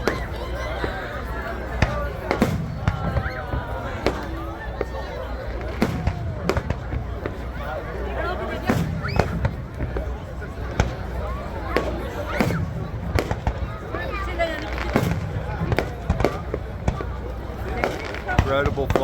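Big fireworks show over a beach and pier, with frequent booming and crackling bursts at irregular intervals across a wide outdoor space, while a crowd murmurs and a nearby person talks throughout.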